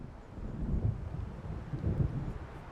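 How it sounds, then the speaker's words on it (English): Low, muffled rumbles of thunder from an approaching storm in Alan Wake Remastered swell twice over a steady windy backdrop, distant and heavy with no talk. "It seems there's a storm coming."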